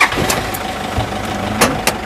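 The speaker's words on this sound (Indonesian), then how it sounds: "Kita start engine." A 2011 Toyota Fortuner G with a 2KD turbo diesel engine and automatic gearbox starting up, heard close and loud as the engine catches and settles into a rough, clattering idle.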